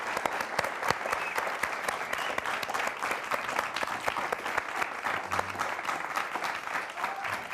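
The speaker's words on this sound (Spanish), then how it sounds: "Quiero darle un aplauso con el público que nos acompaña en el estudio a Diego Maqueira" A television studio audience gives sustained applause for the poet Diego Maquieira, a full, even roar of many hands clapping, continuous and fairly close, with no one speaking over it.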